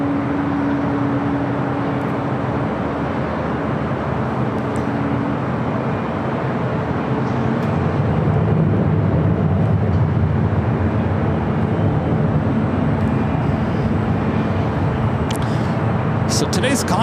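Jet airliners roar steadily on approach at LAX, including a Southwest 737 MAX 8 and a Delta 767, a broad continuous rumble that builds slightly, under a commentator's talk.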